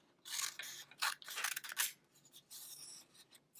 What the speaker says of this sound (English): Now I can go ahead and I can cut out some squares.